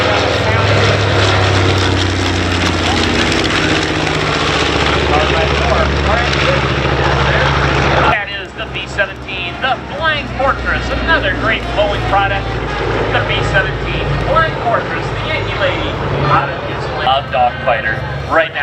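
Boeing PB4Y Privateer four-engine bomber flying past at an air show, a loud, steady propeller-engine roar that drops abruptly partway through, leaving a rougher engine drone under an announcer's voice.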